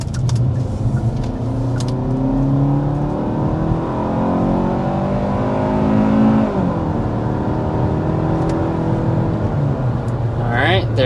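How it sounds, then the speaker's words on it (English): A 2025 Hyundai Tucson SEL with its standard gas engine accelerates hard, the engine note climbing through gears beneath steady road and cabin noise, close and loud. "first we need to go ahead and start with a hard acceleration"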